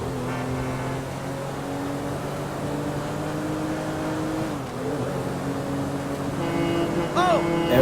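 Michael's boat in the video game GTA 5 drones with a steady, tonal engine hum that runs throughout, swelling slightly louder near the end.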